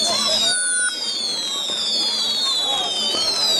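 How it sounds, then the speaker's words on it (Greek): Fireworks at a village carnival in Aetolofos, whistling rockets rising in several overlapping descending whines with faint crackles, loud and sustained amid crowd noise. "Και πυροτεχνήματα φέρανε"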